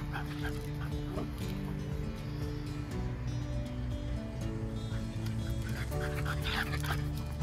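Dogs at a dog daycare playing indoors, with steady barking, yips and whimpers from several animals over a constant busy background din, close and loud throughout.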